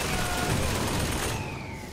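Gunfire in the BioShock Infinite video game: a dense, continuous burst of shots filling the whole moment, loud and close with no pauses.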